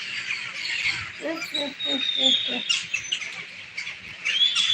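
Crows caw harshly and repeatedly in a busy outdoor chorus, with a person speaking briefly partway through.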